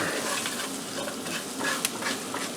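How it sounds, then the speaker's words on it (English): Bite-size green beans tossed into a hot pan for Sri Lankan coconut green beans, a steady close sizzle with scraping stir strokes throughout, no voices. "So now we're going to put in our green beans."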